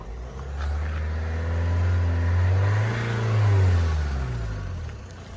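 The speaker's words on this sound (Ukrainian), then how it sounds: "давайте ще трошки погазуємо, покажемо, що димності від автомобіля немає" A 2006 Opel Vivaro 1.9 dCi passenger van engine is revved twice, its diesel drone swelling up and easing back in two smooth rises, close and loud with no voices.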